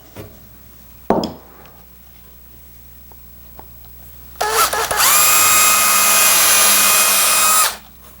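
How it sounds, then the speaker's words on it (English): A click and a sharp knock, then a power drill whirs up and runs steadily for about three seconds drilling small pilot holes before stopping. "I'm going to drill some small pilot holes"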